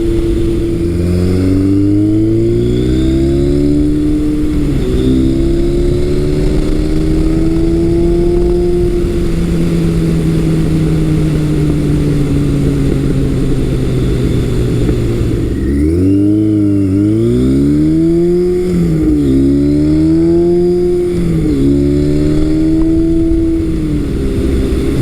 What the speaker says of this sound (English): Bike really pulls good once it starts to transition off of that pilot circuit.